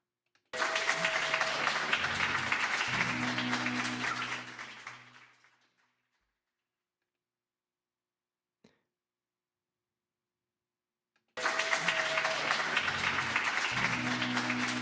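Crowd applause from a live show recording plays as a dense burst of clapping with some tonal music underneath, fading out over a few seconds, then silence with one small click before the clapping cuts back in abruptly.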